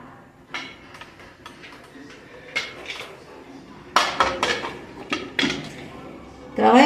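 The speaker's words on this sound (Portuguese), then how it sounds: "E agora eu vou tampar minha panela." A metal lid goes onto a cooking pot of beef tongue and vegetables, with scattered clinks and clatters of cookware and a louder clang late on, under light talk.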